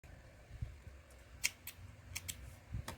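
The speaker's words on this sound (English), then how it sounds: "cut your working yarn" Scissors snip through crochet yarn while finishing a crochet bikini bottom, giving a few quiet, close cuts spread over a few seconds with no talking.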